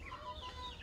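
Soft, steady clucking from a Rhode Island Red chicken, a low continuous murmur with faint chirpy tones, fairly close.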